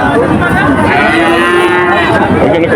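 Cattle at a busy cattle market in Betaga, Bagerhat, give a long, loud, close moo over the steady din of the crowd and other animals.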